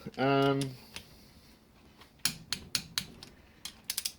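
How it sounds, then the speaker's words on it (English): Metallic clicks and ratcheting ticks from a torque wrench tightening the cylinder head bolts on a Honda CB350F engine during a top-end rebuild. They come in short irregular bursts after a brief voiced sound at the start, close and moderately loud. "I've been tightening the head up in 2 sequences."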